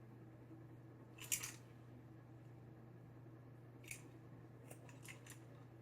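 Scissors snip through hair weave tracks in a few quiet, separate cuts, one crisp cut followed by a couple of lighter snips later, over a steady low hum.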